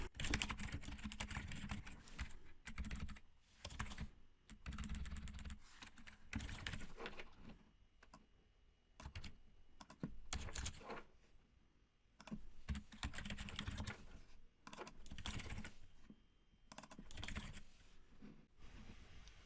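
Typing on a computer keyboard, close and continuous, in quick bursts of clicking keystrokes separated by short pauses.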